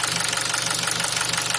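A Nissan QG18DE engine idles at working temperature with a steady, rapid knocking tick pulsing through a dense mechanical drone, loud and close throughout.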